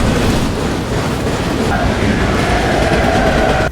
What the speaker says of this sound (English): The train passed the starting bridge